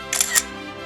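A camera shutter fires during a photo session on a Korean radio show studio, two quick bright clicks close together, loud and near, over a steady faint background hum, with no talk.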